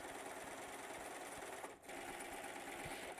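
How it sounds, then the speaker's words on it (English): A serger sewing machine stitching fabric for a blouse, a fast continuous mechanical whir with a brief pause in the middle, fairly quiet and close, with no talking. "So I want you to hold on to your pins and just serge, just like this."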